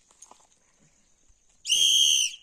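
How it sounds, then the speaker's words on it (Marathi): A handheld whistle, carried to alert others if a tiger or leopard comes near at Lonar lake, gives one loud shrill sustained blast of under a second after near silence. "फुकण्यामुळे ही शिट्टी आहे ना, हे ही बघा. शिट्टी. वाजून दाखव रे."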